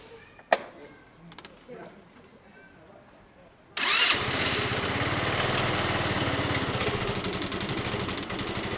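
A Lexmoto FMR 125 motorcycle engine with a charging fault starts up after a few quiet clicks and rattles, then settles into a steady, close, fairly loud idle that runs to the end.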